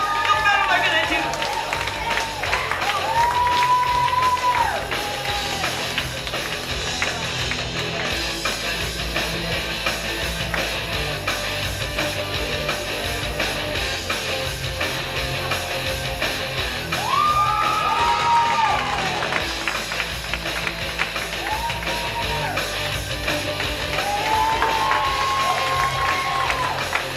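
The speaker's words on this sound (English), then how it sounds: "The more laughing, clapping, cheering they hear, the better they're gonna do." At a live hypnosis stage show, the audience claps, cheers and whoops over a constant murmur of the crowd, while whistle-like musical tones come and go and a voice talks over the noise.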